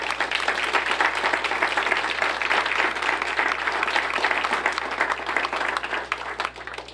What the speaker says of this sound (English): we applaud each and every one of you